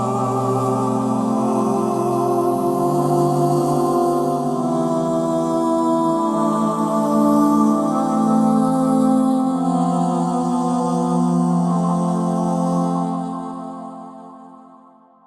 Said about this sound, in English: So you have this pad, which is very ambient.